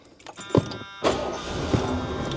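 The 6.6 liter 400 cubic inch V8 of a 1979 Lincoln Continental Mark V cranks briefly, then fires and settles into a loud, rough idle close by.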